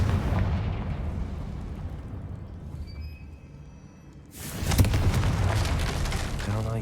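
Confringo spell explosion in the Hogwarts Legacy video game, a rumbling low-heavy drone that fades toward silence, then a sudden loud blast that bursts in and rolls on as a crackling roar.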